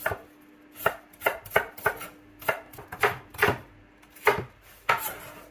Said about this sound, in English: we can start chopping these